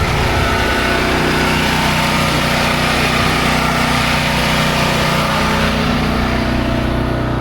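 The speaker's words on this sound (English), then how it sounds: "we're going to surface clean that area one last time" A pressure washer's surface cleaner runs over a driveway freshly sprayed with rust remover, a loud, steady engine drone with broadband hiss that holds unbroken for the whole stretch, with no talking.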